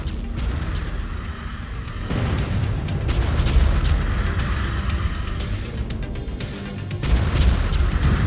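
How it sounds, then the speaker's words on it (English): Long-range missiles slam down in a missile duel in the video game Mechwarrior 5: Wolves of Tukayyid, a loud, sustained barrage of overlapping booms and impacts with sharper hits near the start and end. "LRM duel. Incoming missile."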